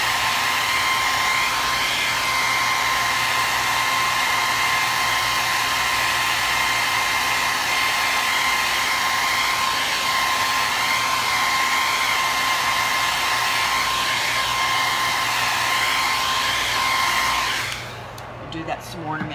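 A hair dryer blowing steadily on thick wet paint on a canvas, a loud constant whine with a strong motor hum for nearly twenty seconds before switching off abruptly.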